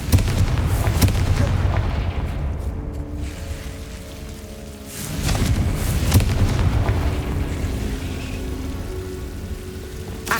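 A rolling, crackling blast from the Confringo fire spell in Hogwarts Legacy, heard as a broad roar that dips briefly and then swells again, loud and sustained like heavy rain or distant artillery.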